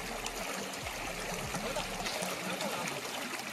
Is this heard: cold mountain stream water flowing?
yes